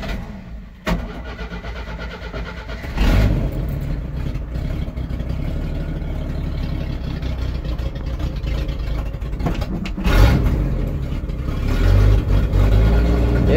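A car engine cold starts: a short crank catches and settles into a loud, steady idle, with another rev surge near the end, heard close with no talk.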